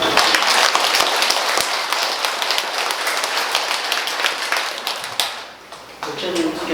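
An audience at a Buddha's Birthday dharma talk in a Korean temple claps together, a dense, sustained burst of many hands that tapers off near the end.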